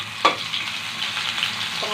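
Vegetables and onion hit hot oil in a pan with a sharp clank, followed by a steady close sizzle and light stirring, no talking over it.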